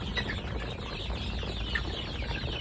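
Farm chickens weighing about 300 to 400 grams clucking on a poultry farm, scattered soft clucks over a steady hum of background farm noise, with no voices.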